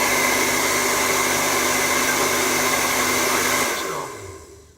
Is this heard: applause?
no